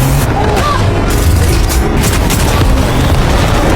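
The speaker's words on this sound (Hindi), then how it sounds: "टीम टैंक लेकर भागती है और रोबोट पर फायरिंग करती है" Tank firing on a robot in the War Machine movie, a loud, dense barrage of booming shots and rumbling impacts filling the scene continuously, close and heavy.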